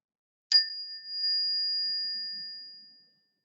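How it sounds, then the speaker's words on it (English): A single struck mindfulness bell rings out clearly with a pure, sustained tone that slowly fades to silence over a few seconds. "Listen for the mindful bell"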